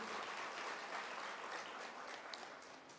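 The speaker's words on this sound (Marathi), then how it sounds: "सर्वप्रथम जोरदार टाळ्या डॉक्टर साहेबांसाठी आणि आयोजकांसाठी" Loud applause for a doctor and the event organisers at a gathering of Phaltan residents, a broad steady wash of many hands clapping together for about three seconds, fading slightly at the end, with no talk over it.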